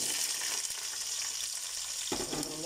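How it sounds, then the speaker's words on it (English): Steady frying sizzle of onion and chili in a pan filling the clip, with a brief stirring scrape near the end. "I'm going to let this fry up."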